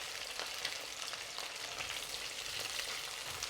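Chicken pieces fry in hot oil for crispy sweet and sour chicken, giving a dense, steady sizzle and crackle that runs close and fairly loud throughout without pause, with no one speaking.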